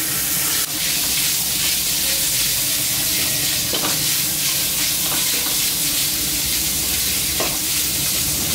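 Minced pork and garlic stir-fried together in a hot pan, loud continuous sizzle and steam hiss with scraping spatula strokes recurring every few seconds, close and unbroken.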